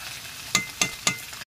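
Curry is sautéed in a pan, a steady sizzle broken by three evenly spaced scrapes of a spoon stirring through it, close up before cutting off abruptly.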